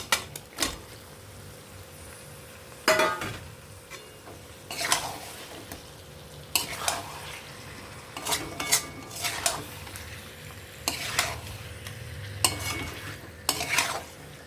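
A spoon scrapes and stirs fried chicken into a cooked-down spice masala in a pan, with repeated clattering strokes against the metal and a low sizzle underneath, close and fairly clear with no talking.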